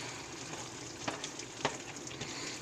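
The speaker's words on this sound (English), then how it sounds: "And I'm going to stir this all together." Three-bean chili with kidney and black beans stirred in a hot pot, a low steady sizzle with a couple of soft scraping knocks from the spoon, close and quiet, no talking.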